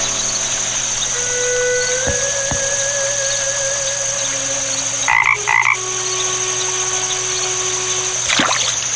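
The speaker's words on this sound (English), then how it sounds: "Is that a frog I hear?" Frog croaking in a point-and-click adventure game set by an ancient pond, a few deep throaty croaks over a steady humming ambient background, with short wavering tones, no talking.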